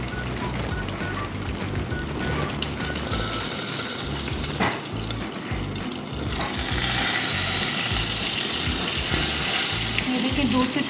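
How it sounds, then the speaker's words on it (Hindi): Chillies crackle and sizzle in hot tempering oil under a lid while making khaman dhokla, a steady close frying hiss with scattered pops, and a voice talks over it. "मिर्चें जो है तड़कती हैं तो उछलती हैं"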